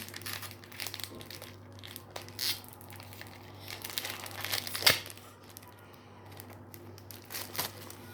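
Crinkling and tearing of a foil football trading card pack, close and fairly quiet, in scattered bursts with one sharper rip midway over a steady background hum.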